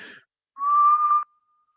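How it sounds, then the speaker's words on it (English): A single sustained whistled note, clear and close, lasting about two-thirds of a second after a short breathy sound, then silence. "it was just a whistle, right?"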